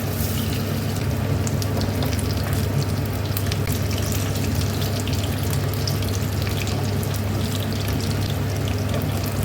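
Coated fish pieces sizzle and bubble steadily in hot oil in a pan while making fish Manchurian, a dense, continuous frying hiss close up with no talk.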